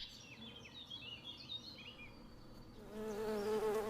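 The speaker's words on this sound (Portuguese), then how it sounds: "As abelhas voam até às passadeiras de flores centenas de milhares de vezes para recolher um único quilograma de mel" Bees buzz among wood anemone flowers amid faint birdsong, then one bee passes close with a louder, wavering hum near the end.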